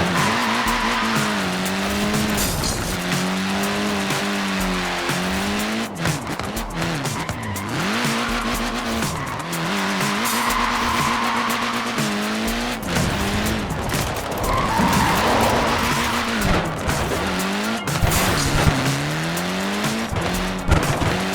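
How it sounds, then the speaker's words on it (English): Car tires skidding and squealing in Forza Horizon 4 on a small Mini with tiny wheels, long wavering squeals sliding up and down in pitch over a steady engine drone, loud and continuous throughout with no talk. "Look at that, laying down some rubber there."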